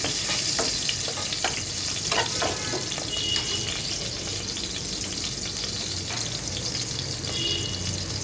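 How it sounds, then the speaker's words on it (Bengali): Chopped onion fries in a pan for a fish dish, giving a steady, loud sizzle close by with intermittent scraping stir strokes and small clinks across the whole stretch. "দিয়ে দিচ্ছি এখানে পেঁয়াজ কুচি"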